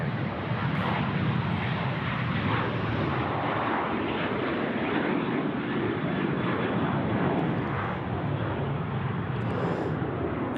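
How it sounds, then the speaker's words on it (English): Boeing 737 airliner landing on the left runway at Sydney Airport, a continuous loud roaring jet engine noise that holds steady throughout, fairly close. "We've got a 737 here landing on runway left."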